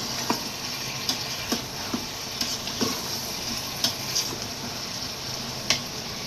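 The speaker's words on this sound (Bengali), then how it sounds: "আমার এই যে মিষ্টি কুমড়াটা কষানো হয়ে আসছে, মশলার সাথে কষাইতেছি" Pumpkin sautéing with spices in a pan, a steady soft sizzle broken by sharp scrape and tap sounds from a stirring spoon every half second or so, close by.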